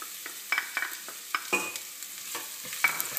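Garlic frying in hot olive oil in a saucepan, a soft steady sizzle with scattered crackles and light scrapes of stirring, close but fairly quiet, no voices.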